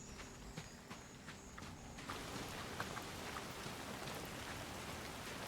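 Steady rain in the video game Soulmask patters down, growing denser and louder partway through, with a few soft scattered taps early on.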